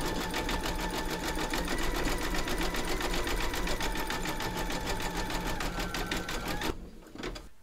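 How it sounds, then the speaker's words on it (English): Embroidery sewing machine zigzag stitching raw edges, a rapid steady mechanical chatter that runs continuously before stopping abruptly near the end. "we're now going to stitch round number 8, and that's going to zigzag the raw edges"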